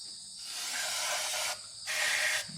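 Aerosol spray hisses into the engine of a long-dormant Plymouth Scamp, two steady bursts with a short pause between them, close and fairly loud.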